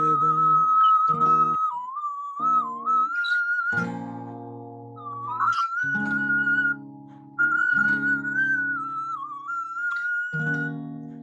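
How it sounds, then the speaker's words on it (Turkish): A person whistles a flowing folk melody alone, clear and close, in long sustained phrases separated by short pauses, with soft instrumental accompaniment underneath. "Çok rahat ıslık geliyor."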